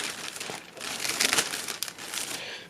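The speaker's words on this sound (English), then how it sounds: "But I'm gonna unwrap this real quick." Crinkly plastic packaging wrapped around newly bought seats rustles and crackles continuously at close range as it is pulled open, with bursts of louder crumpling and no talking.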